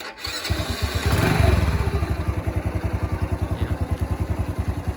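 A 2020 Ryuka Classic 110cc motorcycle, all stock, starts up and idles with a steady, soft, even rhythmic thump, close by and alone, with a brief rev near the start before settling.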